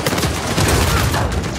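Dense, continuous gunfire from an Uncharted 4 multiplayer match, a sustained barrage of rapid shots and bursts layered at steady loudness with no pauses across the short stretch.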